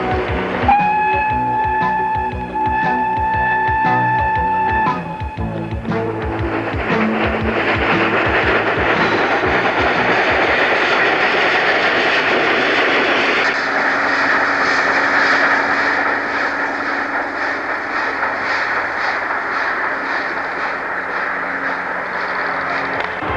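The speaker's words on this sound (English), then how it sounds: "the Flying Scotsman and Pendennis Castle coupled together for the first time and reversing to the Perth terminal" Steam locomotives Flying Scotsman and Pendennis Castle, coupled together, reversing near Perth in Western Australia: a sustained whistle blast at first, then steady loud chuffing and rolling rail clatter continuing throughout.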